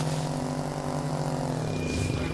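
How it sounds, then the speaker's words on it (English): Helicopter rotor and engine in the video game Trailmakers, a steady close droning hum with strong harmonic tones, pitch sliding slightly near the end as the craft changes speed. "My helicopter works, guys."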